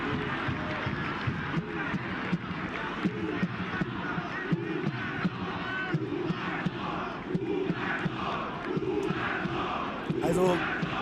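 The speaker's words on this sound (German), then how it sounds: "das gesamte Publikum ruft Hurensohn, in Anführungsstrichen" A stadium crowd chants in unison, a dense, loud mass of voices rising and falling in a steady rhythm throughout, sounding from a distance and filling the whole space.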